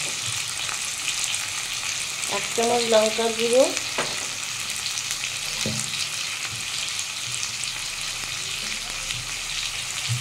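Potatoes, pumpkin and tomato sizzle and fry steadily in a pan with spice powders for a spinach and Malabar spinach chachhari, with occasional stirring throughout; someone speaks briefly over the cooking.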